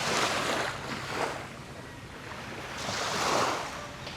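Sea waves wash onto a white-sand beach at Malabonot Beach on Boracay Island, a steady rushing surf with two gentle swells of louder wash, heard up close with some wind noise and no talking.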